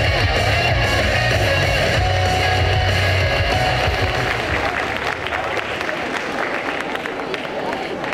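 Convention crowd applauding a cosplayer at a costume parade during the Quimper Japan Manga Wave, loud sustained clapping with crowd murmur and a low rumble under it, thinning slightly toward the end.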